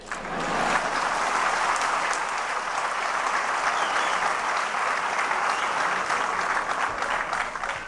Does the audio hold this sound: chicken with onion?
no